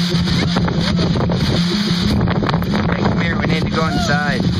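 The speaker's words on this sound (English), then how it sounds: "It's getting windy." Strong gusting wind buffets the microphone as a supercell thunderstorm approaches, a loud steady roar with rumbling low buffeting throughout and a voice speaking briefly over it near the end.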